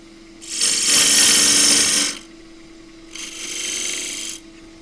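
Richard Raffan's lathe tool shaves down the flange of a wooden pagoda box on the lathe, two loud, rasping cutting passes of about two and one seconds over a steady motor hum.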